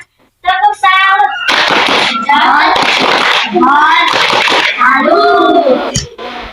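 A group of children claps a rhythmic 'tepuk salut' pattern in a classroom, with sharp, loud, rapid handclaps mixed with chanting voices and a teacher speaking at the start.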